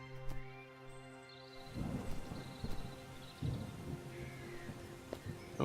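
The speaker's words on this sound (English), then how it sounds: "Oh dear, there's a storm coming up." Thunderstorm in the video game Starbound, low rumbling thunder rolling in a few soft swells over a quiet background of droning music and faint tones, distant and subdued.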